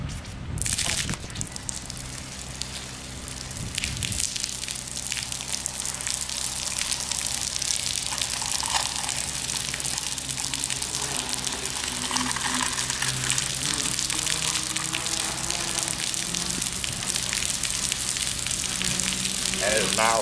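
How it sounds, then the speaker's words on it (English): Water gushing and hissing steadily out of a friction bolt (split set) in a mine while sealant is pumped in, a continuous broadband rush holding loud and close throughout with a low machine hum beneath. "you see the water's already shutting off and coming out the other end"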